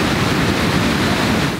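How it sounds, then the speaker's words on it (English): Loud rushing river water roars as a dense, steady broadband wash, close and unbroken throughout. "Just listen to the sound of the water. It's so loud."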